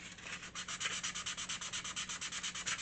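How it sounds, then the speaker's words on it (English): Sandpaper rubbed by hand along furniture edges makes a quick, even back-and-forth scratching, about ten strokes a second, close and soft with no voices. "It's funny when you sand, because sometimes you don't realize you're actually changing an edge or rounding an edge"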